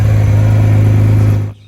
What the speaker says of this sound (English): End result is one very sweet sounding engine.